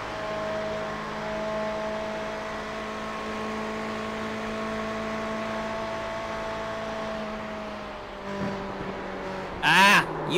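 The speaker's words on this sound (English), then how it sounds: "I can't even hear your engine dropping RPM" A race car engine during Le Mans 24 Hour practice whines steadily at high revs with a sustained harmonic drone, then shifts near the end with brief bursts and clatter, heard fairly close with no voices.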